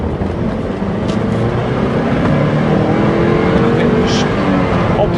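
A Lotus Europa S sports car accelerating hard in second gear, the engine note steadily rising and droning loud from inside the cabin, with road and tyre noise beneath it.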